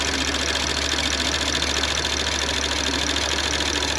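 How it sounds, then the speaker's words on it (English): An Audi S4 B9 engine with a low-compression number 2 cylinder runs at idle, a steady close mechanical drone with a faint uneven knock, continuous and loud with no voices. "number 2 cylinder is right here, and that has a low compression, and this is how the engine sounds"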